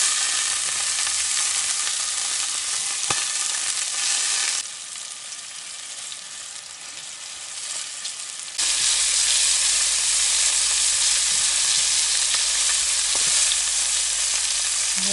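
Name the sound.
liver frying and sizzling in a pan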